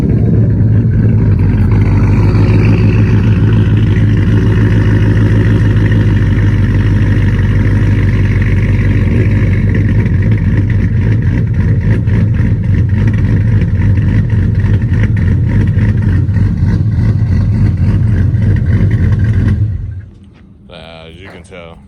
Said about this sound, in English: truck was chopping a little bit faster than it usually does.